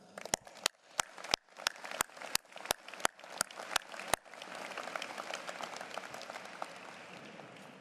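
A commencement audience at an engineering college ceremony claps, first as a run of sharp, separate individual claps, then swelling into dense, sustained applause from a large crowd, with no one speaking.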